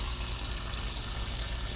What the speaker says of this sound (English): Lital, do you want to turn the water for me?